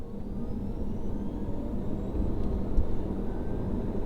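Steady low engine rumble of a BMW i8 hybrid sports car in motion, with a faint rising whine sweeping upward over a few seconds.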